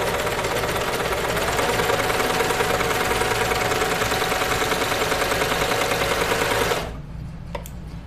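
A sewing machine stitches a dress at a fast, steady rhythm, loud and close for about seven seconds before stopping abruptly, with a few faint clicks after.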